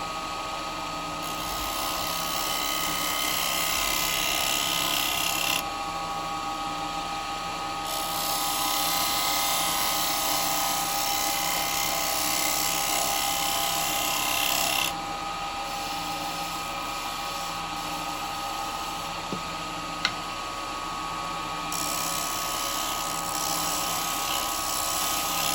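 A lathe spins a beech dish while a 9mm round gouge takes a shear-scrape cut, giving a continuous loud whirring and scraping drone that swells and eases slightly as the tool works, with no voices.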